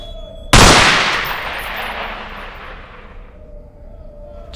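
A single loud gunshot from a weapon in Underhell, a Half-Life 2 horror mod, cracks sharply and then echoes away in a long decaying tail over a quiet game ambience.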